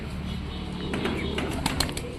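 Pigeons, including racers, coo in a home loft, their low, soft murmuring running steadily and close by with a few sharper sounds toward the end.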